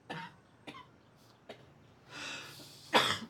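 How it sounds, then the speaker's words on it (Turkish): Several coughs from a woman caught out on a stormy night, spaced irregularly over a few seconds, with a harsher, louder burst near the end; no speech. "Kağır kağır öksürüyorsun işte."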